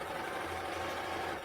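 A sewing machine, likely a cover stitch machine, runs steadily while stitching along the right side of fabric for a draped tank top, producing a continuous close mechanical whir with no talking.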